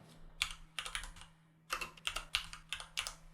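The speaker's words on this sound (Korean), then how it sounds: "T 눌러서 여기에 텍스트를 입력을 하죠." Close, soft keystrokes on a computer keyboard come in two short bursts of quick taps separated by a brief pause, faint over a low background hum.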